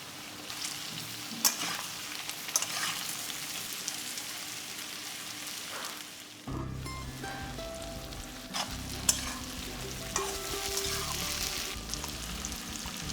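Chopped onion fries in an uncovered pan for a spicy dried-fish curry, giving a steady, close sizzle that swells into a fuller, louder crackle halfway through, with a few light clinks and no talking.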